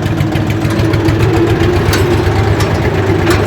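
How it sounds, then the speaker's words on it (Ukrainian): Small walk-behind tractor engine with a hilling plough attachment running steadily out in a vegetable garden, a continuous close, loud low chugging drone with a faint knocking texture throughout. "Дубль номер 3 виїжджає на город. Трактор прям як 200 ход."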